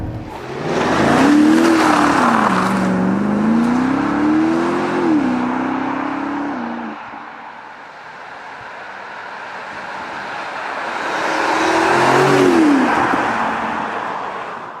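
A BMW X6 M50i accelerates hard, its engine note rising loudly through the gears with a shift dip, fading as it draws away, then surging again in another strong pull.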